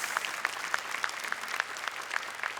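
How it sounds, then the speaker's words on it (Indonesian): A studio audience at a televised Quran memorization competition claps for three young contestants, giving steady, moderately dense applause heard from a little distance. "Boleh tepuk tangan untuk 3 peserta kita."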